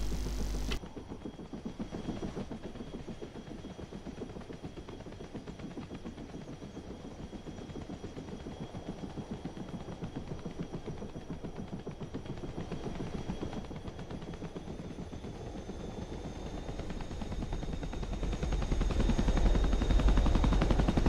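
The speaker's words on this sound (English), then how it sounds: "running his engine up to get ready to go collect" A Spitfire piston engine in the DCS flight simulator runs with a rapid, steady rhythmic beat that swells louder toward the end, heard alone.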